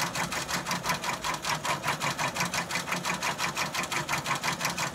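A Brother PR655 embroidery machine stitching a bath mat at 800 stitches per minute produces a steady, fast, rhythmic mechanical chatter that repeats evenly and carries on without pause.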